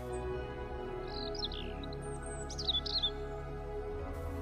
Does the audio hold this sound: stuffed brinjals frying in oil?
no